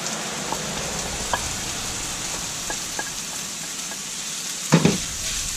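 Tofu with peas and shallots sizzles steadily in a pan during roadside camp cooking for sweet and sour tofu, a constant crackling hiss with a few light clicks and a brief clatter of utensil near the end.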